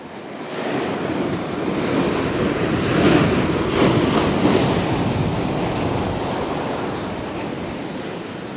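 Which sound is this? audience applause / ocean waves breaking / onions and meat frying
ocean waves breaking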